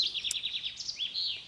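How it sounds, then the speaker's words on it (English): Small birds chirp and warble in a continuous high-pitched run of quick notes, moderately close, with no voices. "Listen to the birds."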